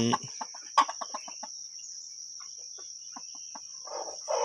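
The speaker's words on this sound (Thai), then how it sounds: "ลูกไก่น้ำหนึ่ง ชุดที่หนึ่งนะครับ อยู่กับแม่ไก่ ที่มีเดือยนะครับ" A hen with spurs clucks beside her young chicks in a farmyard, a quick run of soft clucks and peeps up close, then scattered chirps later, over a constant high insect whine.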